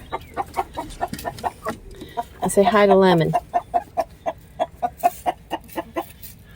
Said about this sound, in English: They are buff Orpingtons. They're very sweet chickens.